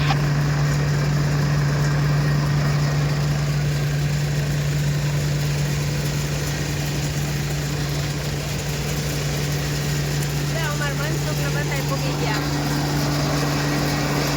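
A tractor engine idles steadily and loudly close by, a constant low hum with a strong droning tone and rattling vibration throughout, while a faint voice briefly sounds near the end.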